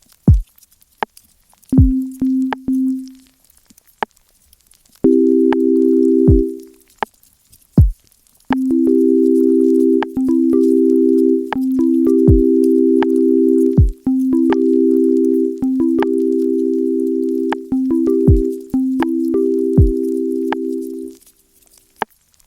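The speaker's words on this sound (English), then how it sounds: "let's make some sort of chord sound with the new wave finder" Sustained chords from an Elektron Tonverk synthesizer play in short held blocks, punctuated by sharp percussive clicks, with a few brief silences between phrases.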